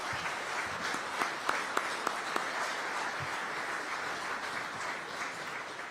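Sustained applause from an audience at a city event in Aurora honoring the Public Works department, dense steady clapping with a few sharper claps standing out, filling the whole stretch at moderate distance.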